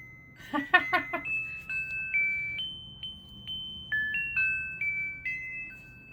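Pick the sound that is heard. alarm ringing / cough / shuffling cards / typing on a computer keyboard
alarm ringing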